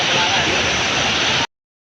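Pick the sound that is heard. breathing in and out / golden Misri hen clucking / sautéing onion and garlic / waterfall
waterfall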